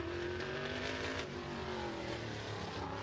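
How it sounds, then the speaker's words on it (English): Race car at a short-track speedway in Pinellas Park, Florida, engine roaring through an intersection with backfiring crackle from the exhaust, a continuous loud motor drone heard from a distance. "Lots of backfiring through the exhaust down through the intersection that time."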